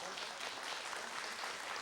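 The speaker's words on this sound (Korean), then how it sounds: "다시 한번 여러분 축하의 박수 보내주시고요" A studio audience at a 1983 live Korean broadcast reuniting separated families claps steadily, a dense, even wash of many hands continuing without pause at moderate loudness.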